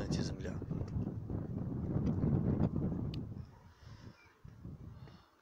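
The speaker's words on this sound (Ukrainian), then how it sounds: "Ну що ж, вітер підсилюється." Wind gusting outdoors on a February day, a broad rushing roar buffeting the microphone that builds and then eases off, with a voice speaking over it.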